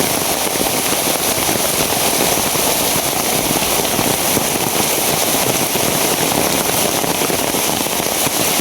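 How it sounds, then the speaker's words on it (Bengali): Heavy rain pours down in a steady, dense roar that stays loud and unbroken throughout, with no voices, during a downpour on a fishing outing. "এদিকে লক্ষ্য করলে দেখতে পারবেন কি পরিমাণ বৃষ্টি।"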